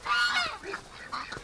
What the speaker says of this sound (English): But that goose, I just caught him.